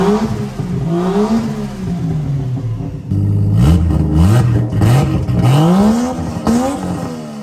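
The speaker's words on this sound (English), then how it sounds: "And I'll give it some gas so you can hear it actually." A Lexus IS300 1JZ with a Vibrant exhaust is revved repeatedly from idle, each loud, close blip rising and falling over a steady rumble, with no voices.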